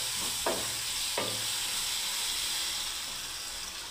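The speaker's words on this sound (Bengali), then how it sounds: "এই বাটি ধোয়া জলটা, মশলা ধোয়া জলটা বন্ধুরা আমি দিয়ে দিচ্ছি এবারে।" Pointed gourd curry simmering and sizzling in a pan, with a steady bright hiss throughout and two short splashy bursts as water is poured in, close and fairly loud, no talking.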